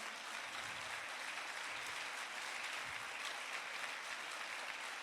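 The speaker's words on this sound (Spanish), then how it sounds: "Le da un aplauso al Señor." Steady applause from a church congregation, continuous and even throughout, heard at a moderate distance.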